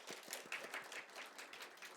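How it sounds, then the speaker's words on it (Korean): Church congregation claps in a brief burst of praise during a Friday prayer service, a dense and moderately distant patter of many hands without any spoken words. "하나님께 영광의 박수를 한번 돌릴까요?"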